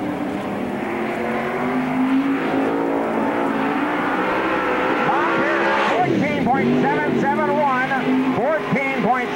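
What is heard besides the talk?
dirt track race car, Murphy Trucking 32 car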